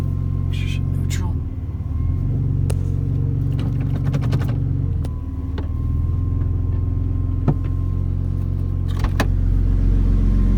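A 2010 Rossion Q1 idling in neutral with its muffler pack removed, a steady deep throbbing rumble running loud and close throughout, with a brief dip in revs and someone talking over it.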